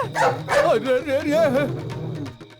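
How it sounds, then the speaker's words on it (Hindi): A dog barks and yips close by, its short bursts overlapping with voices talking through the clip, in a dubbed film scene at a wall. "कुत्ता है बे?"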